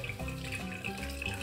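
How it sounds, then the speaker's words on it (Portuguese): Boiling water is poured from close range into a sink drain treated with vinegar, making a steady, loud gurgling splash with no pauses. "Agora eu vou colocar aqui a água fervente."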